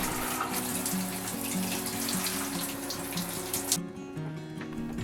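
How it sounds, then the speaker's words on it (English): Hot shower water runs steadily and loudly aboard a liveaboard boat, a continuous close hiss with a low pump-like hum underneath, cutting off abruptly near the end. "it is finally time to enjoy that piping hot shower"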